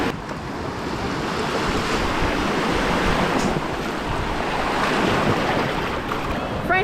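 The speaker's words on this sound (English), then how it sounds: "Look on the big old wave there." Rough ocean surf at Frenchman's Cove Beach in Jamaica: a continuous loud wash of breaking waves with wind buffeting the microphone, and no clear voices.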